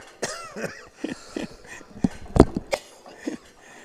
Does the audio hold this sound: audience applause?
no